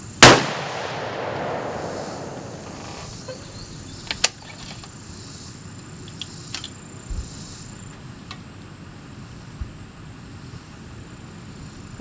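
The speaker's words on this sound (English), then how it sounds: "let's shoot another 3-shot group with the magneto speed on the barrel" A single sharp, loud rifle shot from a 6mm-06 Ackley Improved fired with a chronograph on the barrel, followed by a long fading outdoor echo, then faint ticks and small knocks.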